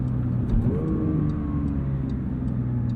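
A 2022 Porsche 911 GT3 engine revving in the video game Forza Horizon, a loud, steady high-revving mechanical drone with a rising whine and faint ticking, no voices.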